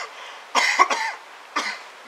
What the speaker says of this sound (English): Whenever he tries to talk, he just starts coughing.